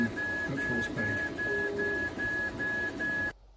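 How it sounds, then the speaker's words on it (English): A 3D printer runs at full speed with steady mechanical whirring and stepper-motor whine, a clear repeating high tone pulsing evenly throughout before it cuts off abruptly near the end. "the printer speeds up and starts printing at full speed."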